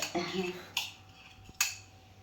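A tawa griddle pan set down on a stovetop with a couple of sharp metallic clanks and scrapes, close and fairly quiet, in a home kitchen while making bun maska.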